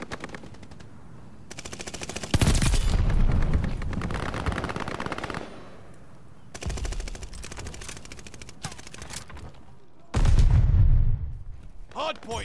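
Call of Duty Modern Warfare gunfire: loud sustained automatic bursts come in several separate stretches with quieter gaps between them, and heavy booming volleys hit near the start and again toward the end.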